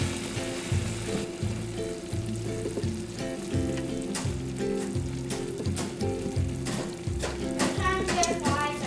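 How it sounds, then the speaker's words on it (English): Ground beef frying in a pan, a loud steady sizzle with scraping and stirring clatter and a rhythmic low hum running beneath, a voice faintly present. "Now we'll put in the ground beef."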